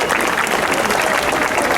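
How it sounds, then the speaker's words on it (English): Dense, steady applause from a crowd gathered at Cedar Point amusement park for a mock funeral of the Mean Streak roller coaster, many hands clapping continuously and loudly throughout. "You know, it's kind of rude to applaud at a funeral."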